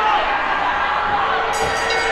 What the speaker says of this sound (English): The crowd asking for Hannibal to do something